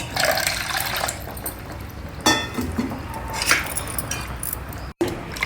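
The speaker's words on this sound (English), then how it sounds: "You can just add about half a cup of water to this." About half a cup of water is poured into thick whisked curd, giving a short close splash and trickle amid clinks of a utensil against the bowl.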